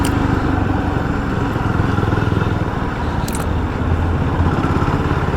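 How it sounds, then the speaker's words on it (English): A Jawa 42 FJ motorcycle engine chugs steadily below 2000 RPM in third gear, a loud, continuous throb with a rapid, even pulse throughout. "I'm below 2000 RPM in third gear. The motorcycle chugs along quite nicely."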